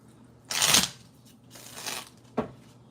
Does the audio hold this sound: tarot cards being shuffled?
yes